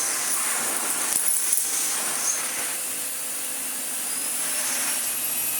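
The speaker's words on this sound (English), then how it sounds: "it's an Electrolux automatic head for the rugs" An Electrolux vacuum cleaner fitted with an automatic rug head runs on a rug, producing a loud, steady airy roar with a high whine, plus a few brief clattering knocks near the start.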